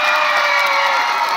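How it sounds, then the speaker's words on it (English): A crowd of students and spectators cheers and applauds school winners at a results ceremony, a dense, loud, steady roar of clapping and shouting with no break. "Big round of applause, everyone."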